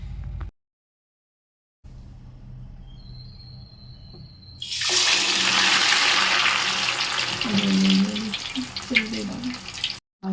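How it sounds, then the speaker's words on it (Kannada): Hill gooseberries dropped into heating coconut oil set off a sudden loud hissing sizzle midway that holds for several seconds before cutting off, following a quiet stretch. "ಕೊಬ್ಬರಿ ಎಣ್ಣೆ ಕಾಯ್ತಾ ಇದೆ ಅದಕ್ಕೆ ಬೆಟ್ಟದ ನೆಲ್ಲಿಕಾಯಿ ಎಲ್ಲ ಇಟ್ಕೊಂಡಿದ್ದೀನಿ ಸೊ ಇವಾಗ ಅದರೊಳಗಡೆ ಹಾಕ್ಬಿಡ್ತೀನಿ"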